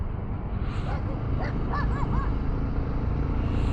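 A dog heard at night along a roadside during a long motorcycle ride, giving a few short yips and whimpers at a distance, faint under steady engine and wind rumble.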